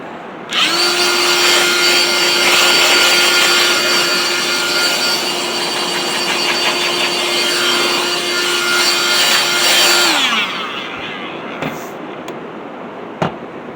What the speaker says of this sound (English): Then we'll hit it with this sander, and then we'll pop the grain and then sand it again.